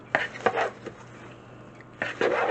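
Popcorn coated in peanut butter and butter gets tossed in a bowl, a few quick rustling shakes near the start, a pause, then another burst of rattling toss near the end, close and fairly loud.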